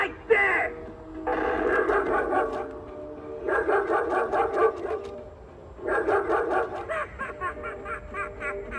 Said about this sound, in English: Up like a pretty flower, or an evil little attack dog,